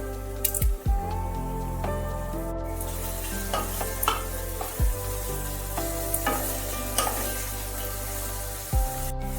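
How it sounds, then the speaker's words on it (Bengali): Thinly sliced onions frying in a pan for potato 65, a constant crackling sizzle with sharp utensil knocks and scrapes recurring every few seconds, close and clear, without talking. "দিয়ে দেব সরু করে কেটে রাখা পেঁয়াজ।"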